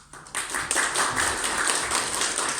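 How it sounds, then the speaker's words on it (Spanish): Audience applause for a presenter after a talk on Mexican Day of the Dead culture, a dense steady patter of many hands clapping that starts abruptly and holds at a fairly loud, even level throughout. "Un aplauso a Nina por su excelente trabajo"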